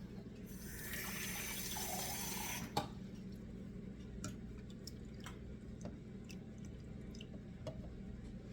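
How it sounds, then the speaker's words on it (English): Water trickling and dripping into a cooking pot for an 18th-century rice pudding: a steady hiss of pouring for a few seconds, then scattered drips over a low background hum. "Let me get a little more water in there."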